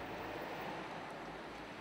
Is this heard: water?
yes